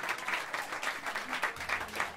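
Small jazz club crowd clapping for a percussionist, steady fairly close applause with rhythmic pulses of hand claps throughout the short stretch, a few voices faintly underneath.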